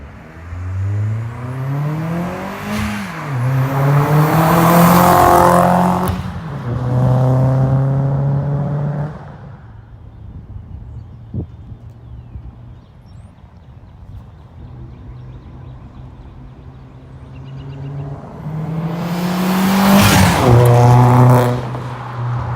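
A tuned, K04-turbocharged Audi A4 1.8T engine revs up hard from inside the cabin, rising in pitch, then settles to a quieter drone before another strong acceleration.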